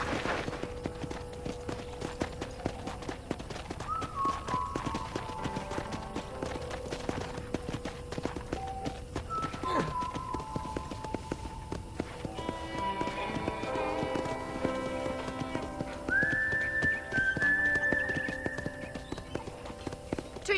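Horse hooves clip-clop at an easy walking pace on a ranch in the video game Red Dead Redemption. The hoofbeats are light and rhythmic, with soft game music playing underneath.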